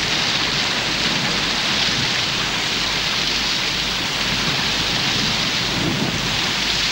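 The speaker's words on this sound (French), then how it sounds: "Les tempêtes déversent ici des pluies bien plus abondantes que ne font les orages dans les régions tempérées." Heavy tropical thunderstorm rain in the Amazon pours down steadily in a dense hiss, with low thunder rumbling underneath throughout.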